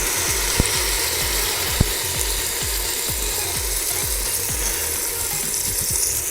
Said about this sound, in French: On va ajouter maintenant les tomates.